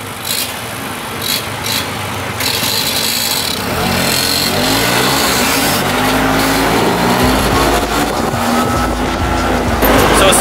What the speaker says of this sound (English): We're now riding in one of these open air taxi things, going to the Ministry of Tourism.